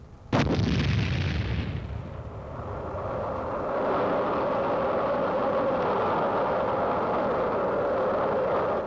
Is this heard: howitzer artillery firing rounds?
yes